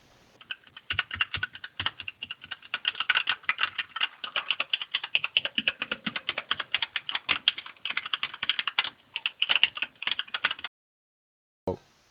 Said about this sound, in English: we're now going to give you a quick sample of the sound the keyboard makes when you're typing on it